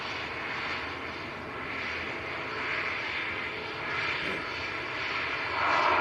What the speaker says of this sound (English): Virgin A350 coming out now.